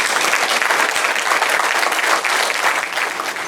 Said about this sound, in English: Let's give another round of applause to these special athletes.